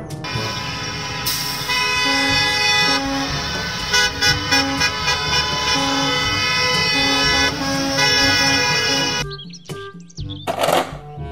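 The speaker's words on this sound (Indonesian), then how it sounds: "Mobil bus sekolah." A school bus horn toots amid loud, steady road-vehicle sound with sustained tonal blasts, then breaks off into a brief, fainter busy patch near the end.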